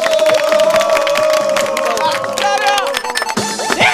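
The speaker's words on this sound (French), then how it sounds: "Les gars, ça s'applaudit là." A crowd cheers and claps continuously at the Intervilles televised game show in Abobo, Abidjan, loud and dense throughout, with shouting voices mixed into the applause.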